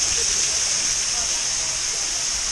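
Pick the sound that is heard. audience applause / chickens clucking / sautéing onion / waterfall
waterfall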